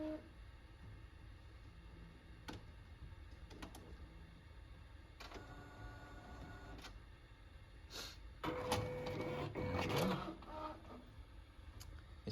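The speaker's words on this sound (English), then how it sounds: "Printer's getting set up. It's going to grab the paper," An inkjet printer grabs a sheet and pulls it in: quiet motor whirs and clicks, then a louder mechanical churning burst near the end, with no talk.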